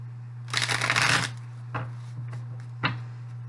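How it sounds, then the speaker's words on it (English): Gilded Tarot cards are shuffled close by: a quick riffling burst, then a few softer taps and a final sharp snap, all fairly quiet. "Let's shuffle the Gilded Tarot."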